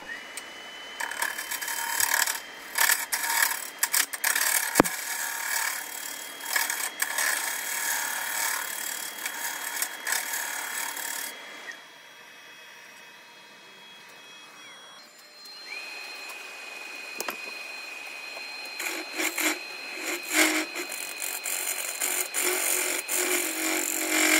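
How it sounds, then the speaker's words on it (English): A gouge cuts a boxelder and resin bowl spinning on a wood lathe, giving a steady, loud scraping hiss with a high whine that fades briefly in the middle before the cutting resumes. "I just quickly moved to a gouge. It was doing just as good of a job to clean it up."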